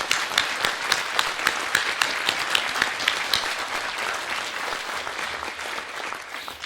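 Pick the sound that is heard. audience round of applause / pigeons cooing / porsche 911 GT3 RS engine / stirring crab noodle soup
audience round of applause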